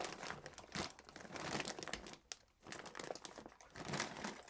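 A plastic bag holding copper scrap is handled up close, crinkling and rustling continuously with crisp crackles and brief pauses as it is squeezed and moved.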